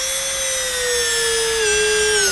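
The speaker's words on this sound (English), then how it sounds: "I just use a smaller Fisher burr and drill a hole in it" High-pitched whine of a dental drill fitted with a small Fisher burr boring a hole into an acrylic pontic tooth for a Hawley retainer, running steadily and close for the whole stretch, its pitch sagging slightly as it bites.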